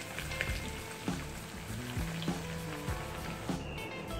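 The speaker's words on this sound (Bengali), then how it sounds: "ডুবো তেলে মাঝারি আঁচে আমার ব্রেড বলগুলো ভেজে নেব" Chicken bread balls deep-fry in hot oil over medium heat, a continuous close crackling sizzle with periodic bubbling bursts and light clinks of a utensil, with no talking.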